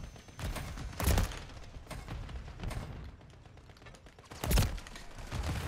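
Gunfire in Modern Warfare 3 comes as a couple of loud, heavy bursts of shots standing out against busy in-game mechanical clatter, close and punchy, with no talking.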